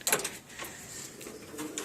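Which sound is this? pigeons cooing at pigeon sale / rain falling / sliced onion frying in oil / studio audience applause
pigeons cooing at pigeon sale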